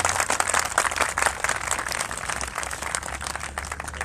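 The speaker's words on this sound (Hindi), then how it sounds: "जोरदार तालियों से स्वागत है।" Audience applause welcoming a guest at a live disability-rights gathering in Delhi, a steady dense wash of clapping lasting throughout, fairly loud with no talk over it.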